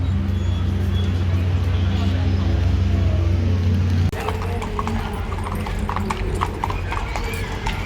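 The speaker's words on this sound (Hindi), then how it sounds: "और ये जो चाल चल रहा है इसको ट्रॉटलिंग और गैलोपिंग से थोड़ा पहले वाली चाल कह सकते हैं हम लोग" A horse at the Calgary Stampede moving at a gait just short of a trot, its hooves clip-clopping in a steady, close rhythm over outdoor crowd noise, with voices in the background.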